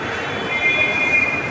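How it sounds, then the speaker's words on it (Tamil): Train noise at Chennai Central railway station: a steady, close rumble of rolling stock with a thin metallic whine, like wheel squeal, running for the whole stretch and growing slightly louder partway through. "இன்றைக்கி நாம் எங்கே இருக்கோன்னா சென்னை சென்ட்ரல் ரயில்வே ஸ்டேஷனில் தான் இருக்கோம்"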